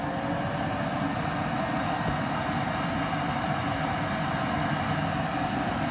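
A Hoover CH32008 Hushtone vacuum cleaner runs steadily throughout, giving a continuous loud whooshing roar with a high whine on top and no talking.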